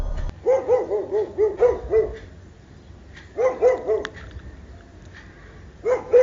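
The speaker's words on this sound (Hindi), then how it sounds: "अचानक कुत्ते भौंकना शुरू कर देते हैं।" Dogs barking in quick bursts, a volley of yaps, a pause, another flurry, then a final short round, fairly close and loud.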